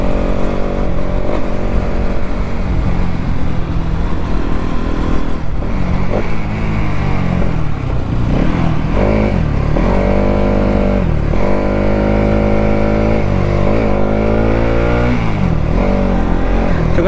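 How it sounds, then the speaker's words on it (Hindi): A TVS Apache RTR 200 motorcycle engine running low on fuel and misfiring, a loud, close, continuous mid-pitched drone with uneven stumbles and surging revs as it sputters along, no voices heard. "बहुत मिस मार रही है। तो अभी है इसमें पेट्रोल, अभी मिसिंग मार रही है"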